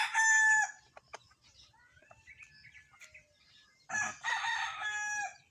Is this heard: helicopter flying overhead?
no